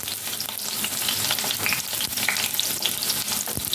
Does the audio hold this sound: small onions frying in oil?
yes